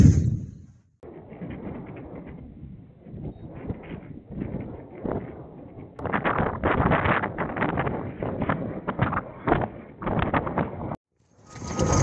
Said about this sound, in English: It's time to get up before I get blown away. Windy day.